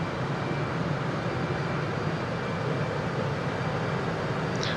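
Steady, loud jet engine roar from a Su-57 Felon in Microsoft Flight Simulator over Merimbula, Australia, a constant broadband rush with no talk.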